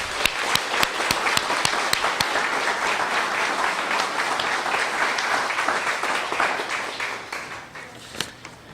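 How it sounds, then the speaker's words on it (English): An audience applauds fire department volunteers at a fire department anniversary gathering, with a few sharp individual claps leading into steady dense clapping that tapers off near the end. "I'd like to give a round of applause for all these people who volunteer their time"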